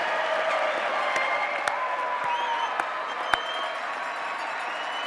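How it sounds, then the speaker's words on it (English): Applause from the crowd at a Virginia Tech Fall 2016 university commencement for College of Science candidates. The clapping is faint and distant across a large hall, a continuous rustle with a few sharper claps standing out. "Let us applaud these candidates from the College of Science."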